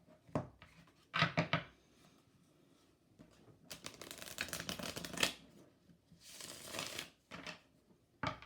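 A deck of Love Language oracle cards is shuffled up close in several quick riffling and flapping bursts, separated by quiet pauses, with no voice heard.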